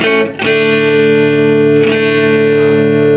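A sustained, distorted bass guitar tone rings out from a Fender Bassman 135 Silverface amplifier, thick with harmonics, with two brief dips where new notes are struck.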